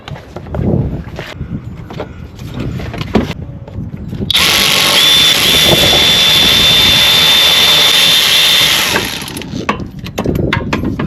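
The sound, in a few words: electric ratchet with E8 socket removing alternator bolts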